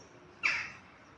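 A gull gives a single clear call overhead, loud and brief against a quiet outdoor background, with no voices.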